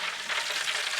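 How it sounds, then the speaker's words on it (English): Fat from Iberico secreto pork sizzles and crackles on a hot Weber kettle grill in a continuous hiss, steady and close, with no talking. "can you hear that sizzle? That is that fat rendering down."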